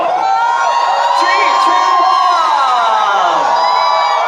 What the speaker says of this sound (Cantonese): 要歡呼聲大聲啲送俾佢哋兩位喎